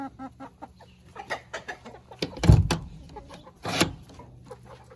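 Crested hens cluck in short bursts inside an enclosure, with a couple of louder, sharper squawks partway through, fairly close and with no talking.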